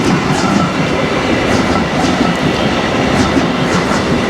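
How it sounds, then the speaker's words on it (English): A train passes near a boat show, giving a loud, steady rumble with rhythmic clickety-clack from the wheels that lasts throughout. "There's a train."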